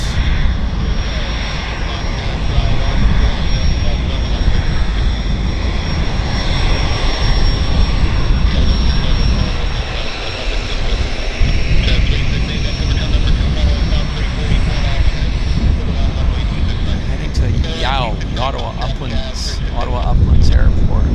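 A business jet taxis at Vancouver airport, its engines producing a loud, steady roar that fills the whole stretch, with a person talking over it.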